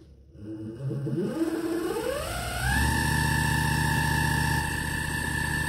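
An Emco Unimat 3 lathe spindle driven by a 550W servo motor spins up, its whirring pitch climbing smoothly over about two seconds and then holding a steady, loud whine.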